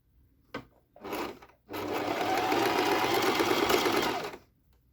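A sewing machine stitches the folded half-inch neck and shoulder hem of a cotton petticoat, with two short bursts first and then a steady, close whirring run of about three seconds that stops abruptly.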